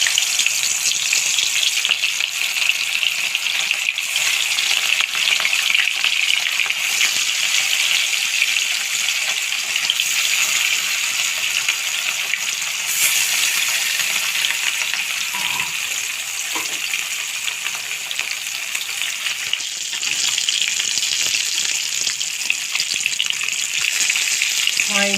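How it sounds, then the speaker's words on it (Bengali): Rohu fish frying in mustard oil in a hot kadai, a loud, steady, close sizzle with crackling spatter that runs unbroken throughout with no talk over it. "মাছটা লাল করে ভেজে নেব"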